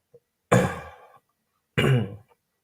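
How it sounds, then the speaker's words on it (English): Two short, rough throat-clearing bursts close to the mic, separated by a pause, otherwise quiet. "I clear my throat too much."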